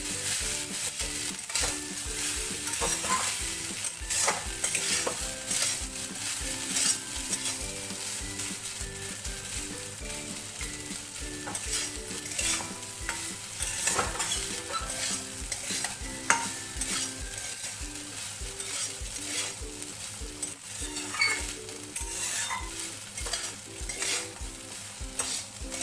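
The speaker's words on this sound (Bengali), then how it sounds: "এবার একটু নাড়িয়ে চাড়িয়ে নিলেই জিরা রাইস রেডি।" Jeera rice is stirred and fried in a pan, with a steady sizzle under repeated scraping strokes of a spoon against the pan, close and continuous throughout.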